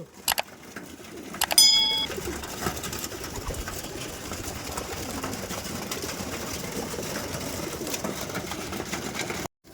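Madras pigeons coo softly and repeatedly among a large flock kept for sale at a home loft, a low steady murmur with a few sharper bird calls and a faint engine hum nearby.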